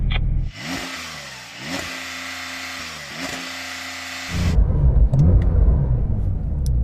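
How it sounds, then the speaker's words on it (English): A German Porsche 911 Turbo revs before a drag race: three sharp throttle blips rise and fall over a steady, subdued idle, then the engine note drops into a broad, louder rumble, close by and with no talking. "And now we're going to have the German car, which sounds like this."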